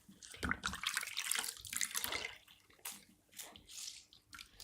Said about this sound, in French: Je rince mon éponge.